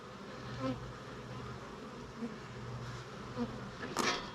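Honey bees hum steadily around an open hive of freshly drawn comb and brood, a continuous close buzz with occasional louder passes near the microphone.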